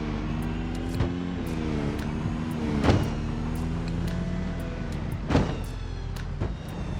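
A car drives in the video game Project Zomboid, its steady engine drone rising and falling in pitch, with a few sharp thuds and clunks standing out along the way.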